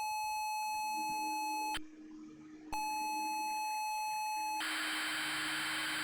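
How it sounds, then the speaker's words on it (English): ZX Spectrum computer game loading beeps: steady high tones, a brief drop to near-silence, the tones again, then a harsh hissing data burst to the end, all fairly loud with no voices. "I remember these old beeps when loading games in"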